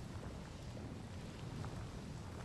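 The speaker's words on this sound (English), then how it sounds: "Oh, it's really windy outside." Outdoor wind in the video game God of War Ragnarok blows as a low, constant rumbling rush, moderately loud and unbroken, with no voices over it.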